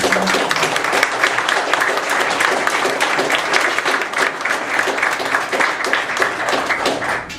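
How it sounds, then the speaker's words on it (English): Sustained applause from an audience at an American Advertising Federation creative event in Fort Wayne, honoring panelists; dense, even clapping holds steady throughout with no voices over it. "So a big round of applause for them."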